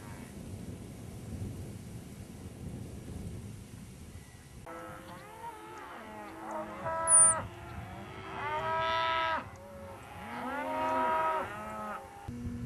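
Several cows moo in a rural outdoor setting during a walk, calls starting after a few seconds of low background rumble, with overlapping drawn-out lowing that grows louder and more insistent toward the end.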